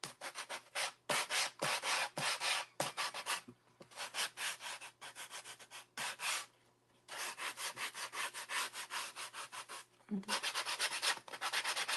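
Rhythmic rasping strokes of sanding wood, close and repeated in quick bursts with brief pauses between runs.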